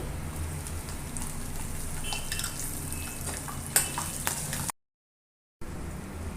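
Cashews and green chillies fry in a tempering of oil over a low flame for sorrel-leaf rice, giving a steady close sizzle with a few sharper crackles, cut by a brief moment of total silence before the sizzling resumes.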